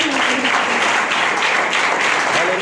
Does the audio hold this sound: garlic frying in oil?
no